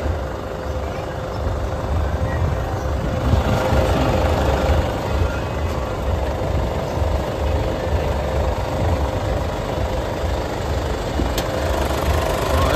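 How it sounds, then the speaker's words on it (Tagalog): A Ford Everest Limited Edition 4x2 turbo diesel with an automatic transmission idles in its engine bay, giving a steady, close, rumbling drone with an even vibration and no break. "pakinggan natin yung kanyang tunog ng makina"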